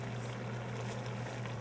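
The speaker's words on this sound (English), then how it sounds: "Now that it's come to a boil" Pot of seasoned Louisiana Creole liquid with salt and pepper at a boil, a steady bubbling rumble with a low hum underneath, continuous and close.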